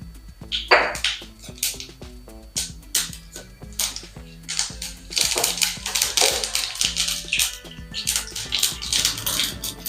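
Dense crackling and popping of mustard and cumin seeds spluttering in hot oil, irregular sharp snaps over a sizzle, close and continuous.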